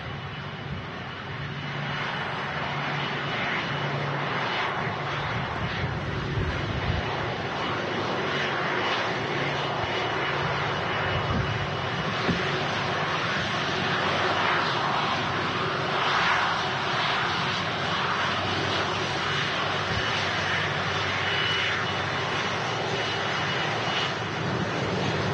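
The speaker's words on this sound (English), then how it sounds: "awesome to see an A330 vacating ahead of us." An Airbus A330 airliner at Manchester Airport gives a steady, loud broadband engine roar throughout, with no voices.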